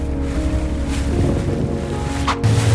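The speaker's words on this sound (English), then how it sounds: "We sped through the water, surrounded by floating chunks of ice" A boat speeds through icy Arctic water between floating ice chunks, giving a loud rushing engine drone with wind and splashing surf.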